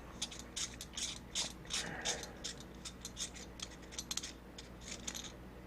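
A metal optic retainer ring being unthreaded with a screwdriver from an airsoft optic or light, giving a string of small dry clicking and ratcheting ticks in quick irregular bursts, close and fairly faint, with no talk.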